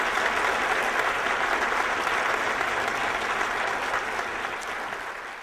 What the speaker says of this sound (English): if we could have a big round of applause for them